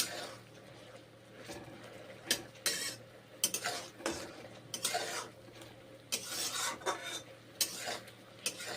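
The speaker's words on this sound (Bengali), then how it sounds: "নেড়ে চেড়ে রান্না করছি মাশরুম তরকারি।" Spoon scraping and stirring vegetarian mushroom curry in a pan, cooked with little oil and spice and no onion or garlic; intermittent soft scrapes and rubbing strokes come in irregular bursts, fairly quiet and close, with no talking.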